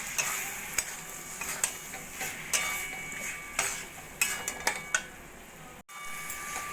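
Chicken keema sautéed with yogurt in a pan, a low steady sizzle punctuated by repeated spatula scrapes and metallic taps against the pan, a brief gap late on, no voices.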